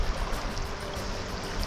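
Thermal hot spring water in Tequila, Jalisco bubbles and gurgles in a steady, close, continuous wash with no pauses or voices.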